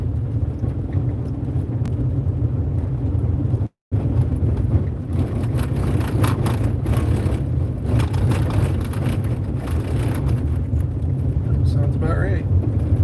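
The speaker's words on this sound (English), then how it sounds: "My truck get completely rattled to pieces." A truck drives along a rough road out toward a pen, its engine a steady low rumble with continuous rattling and road noise throughout and a brief dropout near the start.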